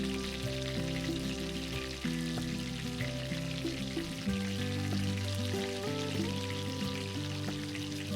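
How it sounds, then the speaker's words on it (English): Mughlai paratha, a folded square flatbread filled with egg and minced meat, frying in oil at a Bengal street food stall, with a loud continuous sizzle and bubbling throughout, mixed with a low background hum and no speech. "It's folded and sealed into a square shape before being fried until"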